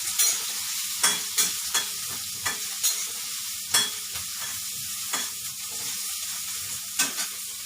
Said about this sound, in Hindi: हरी मिर्च, डाल दो। इसे अच्छे से फ्राई कर देंगे।